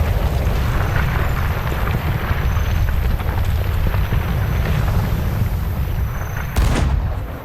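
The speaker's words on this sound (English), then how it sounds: "I'm getting shot at somewhere" Heavy gunfire in a video game, with the player character under fire from an unseen shooter. The rumbling booms are loud and dense and come in a continuous barrage with no pauses. No one speaks.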